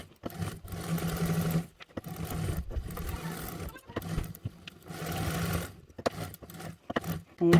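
A domestic sewing machine basts a lining slip pocket to a bag's front panel, whirring in steady bursts separated by short pauses. Someone talks quietly between the runs.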